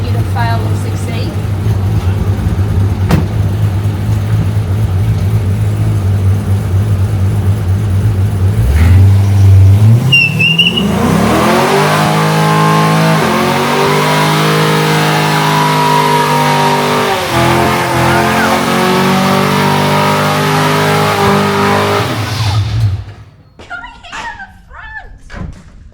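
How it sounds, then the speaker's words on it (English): A car in a shed skid session idles with a low rumble, then the engine climbs into sustained loud high revving during a burnout for over ten seconds before cutting back, followed by voices and cheering. "can I do a burnout in the car?"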